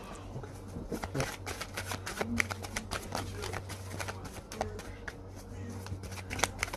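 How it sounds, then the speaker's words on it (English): Tarot cards shuffled and pulled from a deck, giving a steady stream of soft papery flutters and light snaps close by, with a low background hum underneath. "I am going to pull a couple of these cards."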